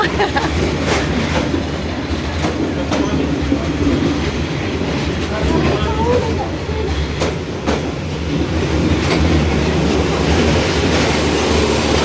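Train rolling slowly through a narrow train street lined close with onlookers, wagons clattering past in a steady loud rumble with rhythmic wheel clicks and faint squeals throughout, with scattered voices from the crowd underneath.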